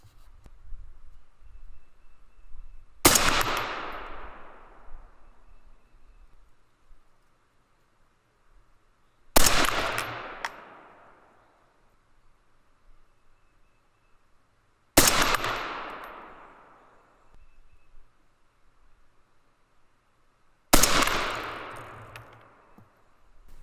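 Four loud rifle shots from a 6mm ARC rifle firing 68-grain Berger flat base target bullets over H322 powder, evenly spaced about six seconds apart, each a sharp crack trailing into a long fading echo.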